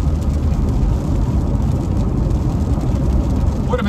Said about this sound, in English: You can see it is raining.